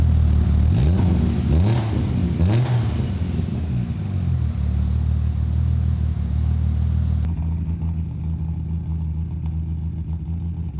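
A Datsun 240Z engine cranks a few times on its first start, catches, and settles into a rough, rumbling idle that carries on steadily, close by.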